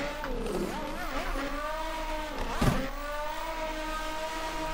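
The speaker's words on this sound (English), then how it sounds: "the sound of this car is insane. Probably one of my favorite sounding cars so far." A tandem drift car at an ESDA 2021 testing session roars continuously at close range, its engine pitch sweeping up and down, with a brief sharp burst of tire noise partway through.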